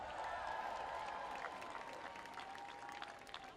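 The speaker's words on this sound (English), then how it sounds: "Let's give it up for our own Mark Ridley Thomas." Faint applause and cheering from an audience at a street unveiling ceremony, a steady wash of clapping heard at a distance, with a few brief shouts and a voice sounding over the top.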